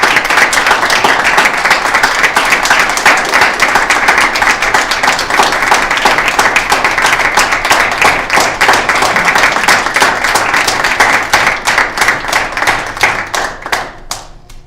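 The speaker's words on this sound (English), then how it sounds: "That's some clapping." An audience at a university student government association meeting claps continuously, loud and dense, then thins out and tapers off near the end.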